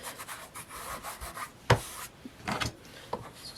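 Hand-rubbing along the edges of a handmade journal cover, dry scuffing strokes repeated at close range with one sharper scrape in the middle and a few softer passes after.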